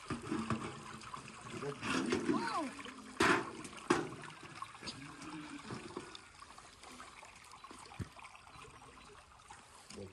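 Water poured by a child into a small vessel outdoors, a trickling, splashing pour rising and fading in short bursts, with voices talking over it.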